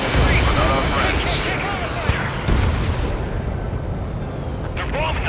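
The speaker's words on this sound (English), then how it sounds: "They're bombing us." Bombing explosions in Ace Combat 7, heavy blasts and crackling booms layered over constant dense battle noise, with voices talking over it.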